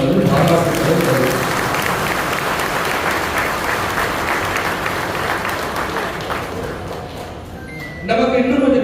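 Loud, sustained audience applause from a crowd at a BJP gathering in Theni district, continuous dense clapping for about eight seconds that fades slightly, then swells again at the end.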